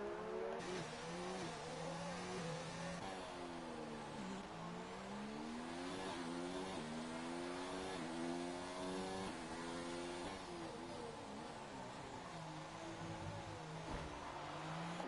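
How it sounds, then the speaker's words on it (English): Engines from a Formula One-style video game race in Azerbaijan, with McLaren cars running side by side, whine continuously as pitches climb and drop through gear shifts, loud and unbroken with no voices. "As the two McLarens go side by side, and Invisible actually gets past Prince Kil"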